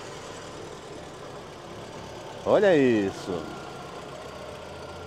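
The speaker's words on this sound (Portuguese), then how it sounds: "pedir para um amigo da partida aqui no motor, para a gente escutar junto o carro funcionando" A 2015 Fiat Palio 1.0 engine idles steadily at a used-car fair in Caruaru, a low continuous hum broken midway by a short excited exclamation from a nearby voice.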